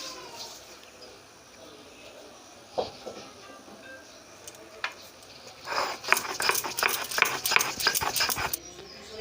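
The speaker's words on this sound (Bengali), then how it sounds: "এবার আমি আদাটা বেটে নিচ্ছি।" Ginger pieces are ground on a stone grinding slab (sil), with a few scattered scrapes followed by a dense run of rhythmic rasping, grinding strokes close up. No one speaks.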